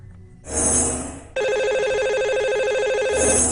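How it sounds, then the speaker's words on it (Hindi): A telephone ringing for a call-in caller on a Hindi radio show, with a steady repeating electronic ring tone that starts after a brief burst of noise and continues loudly to the end. "आइए उन्हें सबसे पहले फोन लगाते हैं।"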